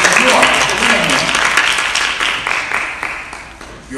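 An audience at a junior Bible quiz tournament claps in a loud crowd applause that fades gradually over a few seconds, with some voices mixed in.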